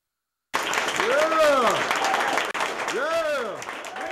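Applause and cheering from a crowd at an event with Lakers player Kobe Bryant, starting abruptly after a moment of silence, with whooping voices rising over the clapping and a brief cut midway.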